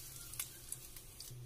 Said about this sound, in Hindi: इसमें मैं ऐड कर देती हूँ ये वाला तड़का